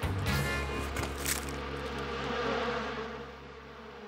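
Cartoon bees produce a loud, sustained droning buzz that swells and fades slightly over a few seconds, with no talking.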